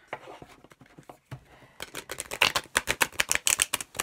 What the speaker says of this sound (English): Let's see how it rifle shuffles.